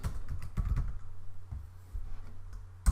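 Quick clicking keystrokes on a computer keyboard as a field name is typed into an accounting database form, close and fairly quiet, with irregular bursts of taps and a low steady hum underneath.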